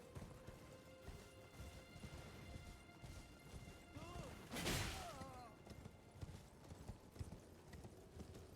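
Horse hooves clip-clop steadily in a video game, soft and fairly distant, with a brief crash and a whinny-like sweep in the middle under faint background sounds.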